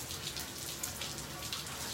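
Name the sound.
rain falling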